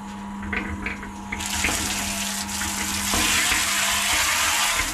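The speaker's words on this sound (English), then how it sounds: "I'll just use my hose for this one." Water runs from a garden hose into a mortar mix, a steady splashing rush that starts after a quiet moment with a faint hum and grows fuller and louder, close by with no talking.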